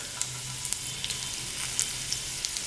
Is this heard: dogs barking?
no